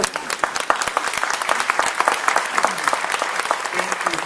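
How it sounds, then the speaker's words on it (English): An indoor audience at an interview event claps together in dense, continuous applause with faint crowd voices mixed in underneath. "Okay, so what if we all clap together?"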